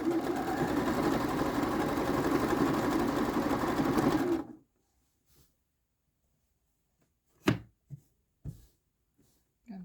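Sewing machine stitching a quilt, a steady, fast mechanical whirr for about four seconds that stops abruptly, followed by a few faint clicks and soft handling knocks.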